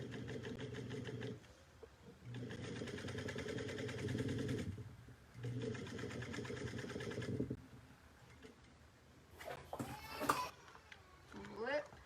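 Sewing machine knot stitching a bucket bag with a drawstring, running in several steady whirring bursts with short pauses, then stopping as a person talks briefly near the end.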